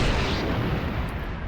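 Torpedoes launching in the Star Wars Galaxies space combat game: a loud, dense, continuous roar of explosive rumble and crackle, sustained without pause and with no voices.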